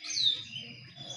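Several birds chirp and tweet together inside an aviary in Indonesia, a brief, fairly close burst of bright calls over soft lower chatter.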